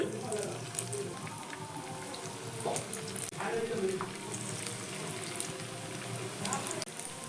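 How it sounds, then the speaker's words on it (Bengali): Homemade snacks dropped one by one into hot oil for deep frying, giving a steady close crackle and bubbling sizzle that runs throughout, with a few brief louder spatters. "এবার একে একে আমি আমি যে স্ন্যাক্সটা বানিয়ে রেখেছিলাম তেলের মধ্যে ছেড়ে দিচ্ছি"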